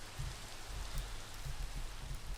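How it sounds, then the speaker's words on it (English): Steady rain in the Minecraft video game, a soft, even hiss of falling drops with low muffled patter underneath, quiet and continuous with no voices. "And it's raining."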